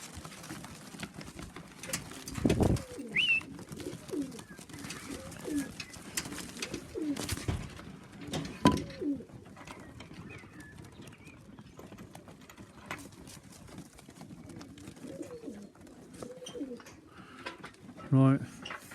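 Young pigeons in a loft give low, soft cooing calls that repeat in short rolling phrases, close but quiet, with a few thumps and rustles and occasional speech nearby.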